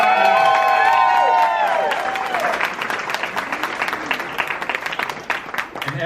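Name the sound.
audience applause and cheering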